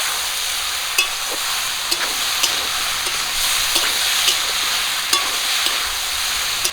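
Ginger, garlic and cumin paste fries in a pan with a steady, loud sizzle, broken by occasional sharp clicks of stirring throughout.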